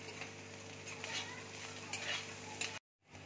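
Banana stem with turmeric and salt frying in a pan, a steady sizzle under repeated stirring and scraping that runs for nearly three seconds, then cuts off abruptly into silence.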